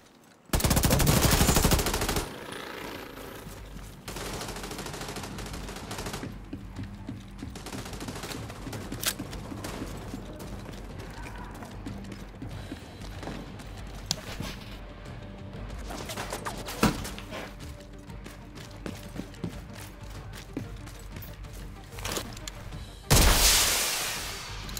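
Shotgun blasts and machine-gun fire in a shooter video game, a loud opening burst followed by sustained rattling gunfire with sharp individual shots, ending in another heavy volley.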